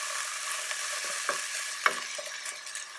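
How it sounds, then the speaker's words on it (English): Chopped onion, garlic and pancetta frying in a tablespoon of olive oil in a pan: a steady close sizzle with occasional sharp pops and scraping stirs, no speech. "In a pan with a tablespoon of olive oil, I've added our chopped onion, garlic, and pancetta."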